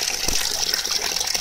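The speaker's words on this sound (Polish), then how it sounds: "Zaczyna lecieć woda." Water gushes and splashes steadily from a tap just turned on in Stryków, Poland, after air has been blown out of the pipes; the flow is close and even, with no voices.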